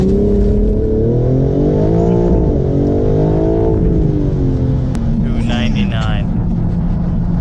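A chip-tuned BMW M4 G82 accelerates hard with its wheels spinning. The loud, close engine note rises, dips and climbs again, ending in a brief burst of harsher noise.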